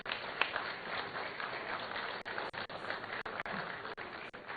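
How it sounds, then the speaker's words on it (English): Faint, muffled applause from an audience at a national AI strategy launch event, a thin continuous patter of clapping with a few brief drops and clicks, distant and dull in tone. "Please put your hands together for him"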